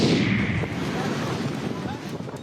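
Strong wind gusts roar across an open street, a heavy rumbling buffet that is loudest at first and then eases slightly while continuing to batter the microphone.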